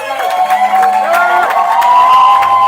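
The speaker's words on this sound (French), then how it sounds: "est-ce que tu peux acclamer Yeshua?" A church congregation at a Sunday worship service cheers and acclaims Yeshua, a loud, sustained mass of shouts, whoops and cries rising together and filling the room without pause.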